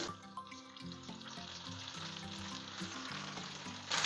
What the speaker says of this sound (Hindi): फिर से फ्राई के लिए फिश डालते हैं।